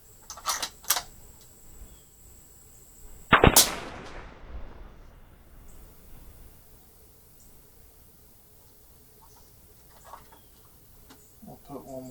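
A single loud .308 rifle shot fired during hunting ammunition testing, a sharp crack with a long decaying tail, preceded by a couple of quieter clicks and followed by faint handling noises outdoors.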